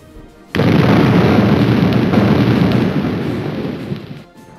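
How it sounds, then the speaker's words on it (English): A loud, sustained rumbling blast of bombs exploding in the Desert War Italian Campaign video game, starting abruptly and rolling on for several seconds before fading. "I'll try not to talk when bombs are coming through"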